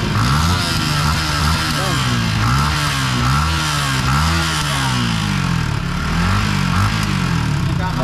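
A heavy-duty motorcycle engine runs close and loud, its pitch rising and falling in repeated rev surges over a steady rumble throughout.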